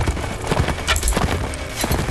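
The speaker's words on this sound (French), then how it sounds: "le cheval est beaucoup trop vite" Horse galloping in the video game Mount & Blade: Warband, a fast racehorse pace of rapid, overlapping hoof thuds set against a dense battle din with sharp cracking impacts.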